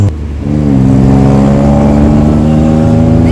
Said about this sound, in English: it is a super fast bullet tuk-tuk